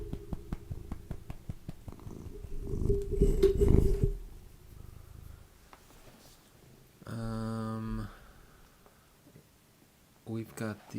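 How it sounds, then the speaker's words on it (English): A cat purrs close to the microphone in a low rumbling burst, followed by people talking, with other brief mid-range tones and clatter around it. "purr into the mic."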